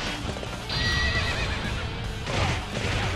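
A horse neighs in the Dynasty Warriors 7 video game, a loud rising whinny over the clatter of hooves and battle noise, close and prominent.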